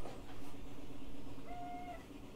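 A pet cat gives a single short meow, faint and slightly distant, against a steady low indoor hum with no talking.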